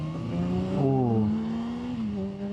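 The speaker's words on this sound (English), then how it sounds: "Those used to be my favorite cars, WRXs, specifically the hatchback, WRX hatchback." A WRX hatchback passing by, its engine note rising and shifting in pitch with clear tonal harmonics, moderately close and continuous over a few seconds.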